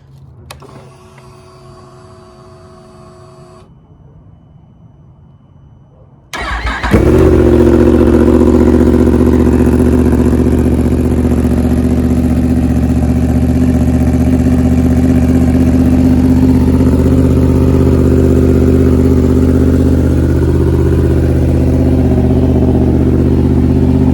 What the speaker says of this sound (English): And now I'm gonna start it up just like the instructions say.